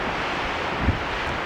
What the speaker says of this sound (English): Very windy today.